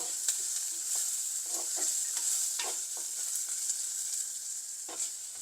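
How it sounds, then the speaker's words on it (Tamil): Small onions sautéing in oil for a fish curry, a constant bright sizzle with regular stirring scrapes of the spoon in the pan, heard up close and without speech. "இப்போ இங்கே இது வதங்கி கொண்டு வருது வெங்காயம் சின்ன வெங்காயம் நல்லா வதங்கணும்"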